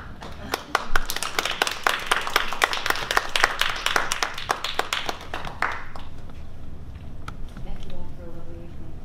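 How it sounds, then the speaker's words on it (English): Audience at a poetry bookstore film screening and discussion applauds, a dense burst of clapping lasting several seconds before tapering into scattered claps, with voices talking underneath. "Again, a round of applause, everyone."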